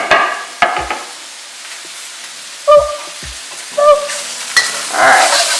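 Carrots and zucchini are stir-fried over very high heat in a pan for vegan drunken noodles. Steady close sizzling runs throughout, broken by several louder scraping, clattering stirs and tosses of the utensil against the pan.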